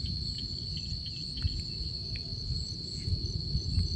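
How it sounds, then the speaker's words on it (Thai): Banded bullfrogs (Kaloula) call during the rainy season after heavy rain, forming a loud, continuous chorus with a steady high whine. The sound is dense and unbroken throughout, with no talking. "เสียงอึ่งยางกระน้องสนั่นอยู่ทางผม"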